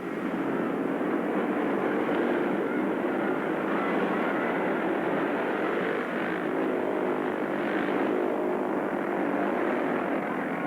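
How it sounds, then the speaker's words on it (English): Speedway motorcycles race at full throttle in a 1960 world championship meeting, a continuous loud engine roar holding steady throughout with no break or talk over it. "Using full throttle, Fundin draws away from Moore."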